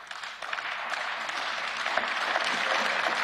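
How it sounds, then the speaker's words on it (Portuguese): Applause fills the European Parliament chamber during a State of the Union address, a dense, steady wash of clapping from a large seated assembly that holds at an even level and swells slightly toward the end. "e o hemiciclo aplaude então o momento em que Jean-Claude Juncker elogia a participação dos jovens europeus voluntários"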